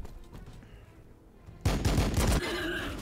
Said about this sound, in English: The bolt rifle sound great.